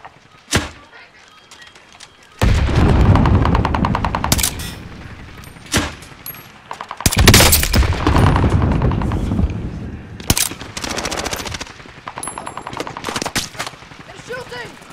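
Rapid bursts of automatic gunfire in the video game Warzone, loud and close, with repeated sharp volleys and short pauses between them, and people talking in between.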